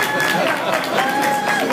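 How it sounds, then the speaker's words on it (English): A crowd at a Martin Luther King birthday celebration claps hands in dense, continuous applause, with voices mixed in. "Everybody clap your hands."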